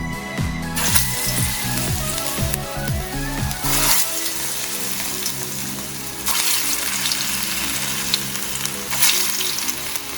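Okra vada pieces dropped into hot oil on medium heat, setting off loud, continuous bubbling and sizzling with bursts of crackle as each batch goes in.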